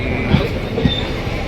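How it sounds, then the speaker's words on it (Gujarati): Steady low rumble of a train arriving and rolling past nearby, with a couple of faint clanks from the wheels and a thin high whine above. "જો આપણે હવે ટ્રેન આવી ગઈ છે"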